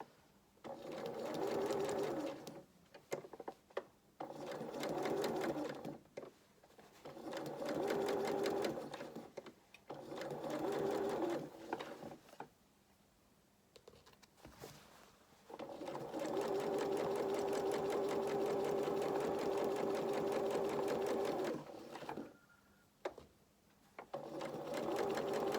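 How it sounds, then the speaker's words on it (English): A domestic sewing machine stitches a seam up to a corner on children's shorties or dungarees. Several short, close whirring runs are broken by pauses, then one long, steady stretch of stitching, with a few brief stops near the end. "I'm going to sew up until this corner, needling my work"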